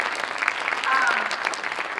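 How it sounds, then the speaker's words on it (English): Applause from a panel event audience, a steady broadband patter of many hands clapping at moderate level for the full two seconds, with a voice briefly audible over it. "Let's give that a round of applause."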